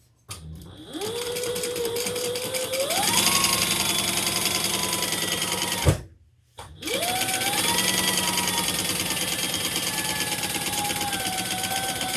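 Sewing machine top-stitching the main lining of a Jasmine handbag, its motor whirring up to speed in a long steady run, stopping briefly, then running again, loud and close.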